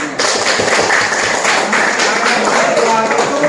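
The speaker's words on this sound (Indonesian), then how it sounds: "tepuk tangan" A room audience claps in dense, continuous applause, loud and close throughout.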